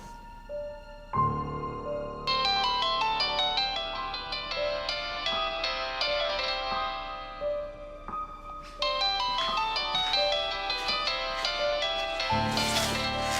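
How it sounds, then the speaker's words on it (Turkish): A mobile phone ringtone plays a bright electronic melody, repeating its tune over several seconds at moderate volume with no voices. "Kimin bu telefon?"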